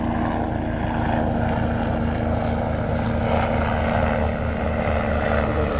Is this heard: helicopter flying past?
yes